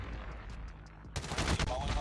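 Gunfire in Call of Duty Mobile: a brief stretch of faint clicks, then a dense, loud burst of automatic fire that rattles on for most of the remaining second.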